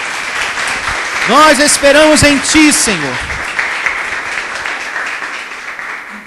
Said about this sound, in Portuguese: Louve a Deus com suas palmas,